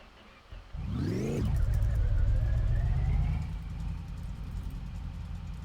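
An El Camino in a video game cranks and fires up, revving sharply before settling into a loud, steady idle that rumbles on alone.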